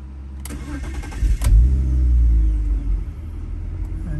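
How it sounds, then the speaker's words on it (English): A BMW 330i M Sport convertible with automatic gearbox starts up: a couple of starter clicks, the engine catches with a loud low rumble and a brief rev, then settles into a steady idle. "quick video of start up and running on this BMW 330i M Sport convertible automatic"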